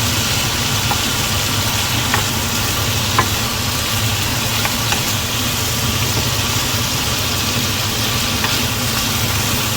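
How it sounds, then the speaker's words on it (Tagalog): Pork curry sautéing with curry powder in a pan, giving a steady dense sizzle throughout with occasional light clicks of stirring, close and fairly loud, no talking. "we're going to saute it again until it's really golden brown"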